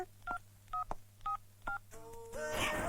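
Mobile phone keypad beeps as a number is dialed: four evenly spaced two-tone presses, then a quicker run of tones that ends in a louder noisy burst, close and clear with no talking.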